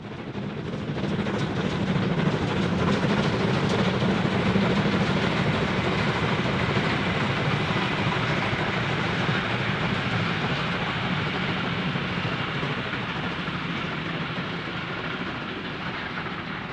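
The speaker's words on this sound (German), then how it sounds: "Kurz hinter der Bahnhofsausfahrt passiert der Zug das Kloster Obermarchtal." A train runs past Obermarchtal monastery just after leaving the station, a steady, loud rolling rumble with wheel clatter and hiss that holds throughout and eases slightly toward the end.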